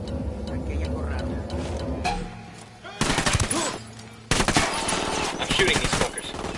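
Automatic gunfire in the video game Ghost Recon Wildlands, dense rapid bursts starting abruptly and roaring loud and close, following a stretch of talk and game noise.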